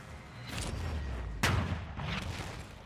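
A tank-battle scene from a documentary about a Tiger tank and T-34s, with a steady rumble of combat under a sudden loud cannon blast or explosion in the middle and more booming around it.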